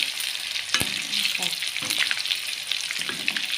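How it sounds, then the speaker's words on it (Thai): Loud, steady sizzling of pork frying in a hot pan, with scraping and stirring noises now and then. "เอาหมูใส่กระทะแรงนะคะแล้วก็เริ่ม เหลืองสุกใกล้สุกแล้วนะคะ"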